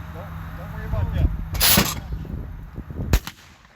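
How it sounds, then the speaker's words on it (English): Semi-automatic firearm shots during a firearms safety session: two sharp, loud cracks about one and a half seconds apart, the first longer and more ringing, over murmured talk and outdoor background noise. "After you've shot your first shot, if you're comfortable, go ahead and shoot your next 4 shots."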